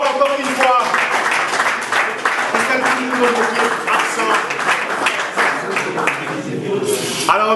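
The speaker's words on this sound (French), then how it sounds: "Merci d'applaudir bien fort encore une fois" An audience applauds award recipients at a merit prize ceremony, brisk clapping carrying on throughout while voices talk and call out over it at close range.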